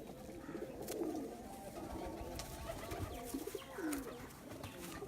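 Tournament pigeons on a rooftop: several soft, rolling coos repeat across the stretch, fairly close but quiet, over a faint outdoor background with occasional light knocks.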